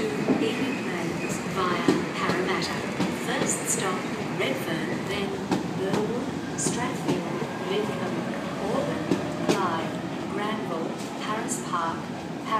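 Waratah A1 electric train departing platform 17 at Sydney Central station, a steady rumble and clatter of the train pulling out, heard under continuous nearby talk.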